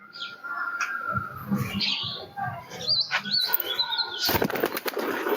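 Released pigeons burst into loud, rapid wing flapping close by, a fluttering flurry with a few chirps mixed in.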